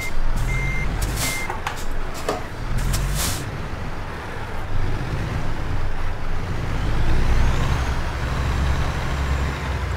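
A semi truck in American Truck Simulator backs up a trailer, its reversing alarm beeping in a regular pattern over a loud, steady diesel engine rumble and a hiss of air brakes.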